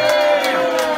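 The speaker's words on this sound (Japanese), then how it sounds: "大きな拍手よろしく。" Live house audience at a punk show cheering and shouting, a brief dense burst of crowd voices with whoops.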